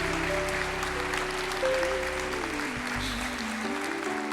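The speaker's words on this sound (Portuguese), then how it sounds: "Aplauda o Senhor" A church congregation applauds steadily for the Lord, the clapping a soft, even patter beneath sustained keyboard chords that shift pitch as it goes on.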